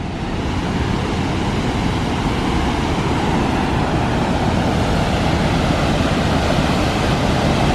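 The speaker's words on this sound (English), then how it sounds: "Pretty good water going down the waterfalls." Steady, dense roar of water pouring over the waterfalls at Ohiopyle State Park, a continuous broadband rush with no break, loud and close from a viewing platform.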